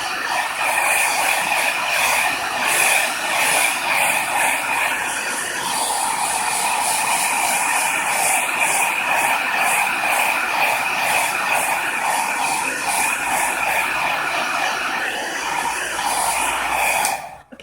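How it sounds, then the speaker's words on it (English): A blow dryer runs steadily and close by as it dries one edge of a paper doily, giving a loud, continuous whooshing roar for nearly the whole stretch before cutting off at the end. "I'm just going to blow one edge here so I can show you kind of what it looks like if I get it more or less dry"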